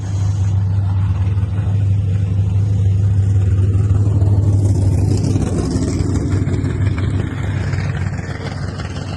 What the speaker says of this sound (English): Some cars are heading to the staging lanes now.